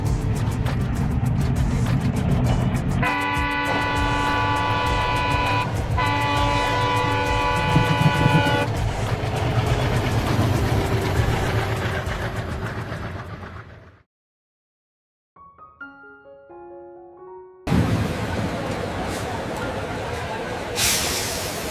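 Rumbling train on the rails between Patna and a junction, a long continuous roar with tonal whistle-like hums for several seconds, a brief drop to near silence with faint music, then the rolling noise returns loud.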